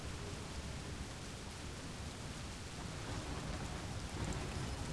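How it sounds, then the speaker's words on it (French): Heavy storm rain in the city-building game Cliff Empire, a dense steady hiss of downpour with low rumbling thunder underneath, loud and continuous, no voices. "On est au troisième jour de la tempête."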